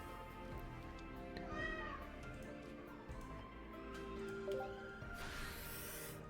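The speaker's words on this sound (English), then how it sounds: "My cat's tweaking in the corner." Pet cat meowing in the corner of a room, a few faint, drawn-out meows with rising and falling pitch heard at a distance beneath quiet background noise.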